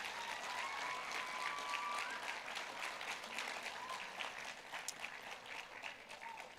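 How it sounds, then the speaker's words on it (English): A crowd at a Jr. Miss and Miss Cherokee pageant applauds the young contestants, a sustained, fairly distant roll of clapping with faint cheers and crowd murmur mixed in. "Let's give them all a round of applause."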